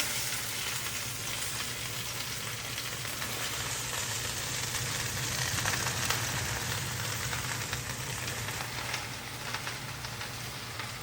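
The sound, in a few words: vegetables frying and being stirred in a pot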